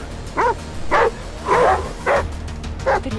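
Three dogs barking in the video game Die Young, five sharp bursts spaced roughly half a second apart, loud and close with no talking.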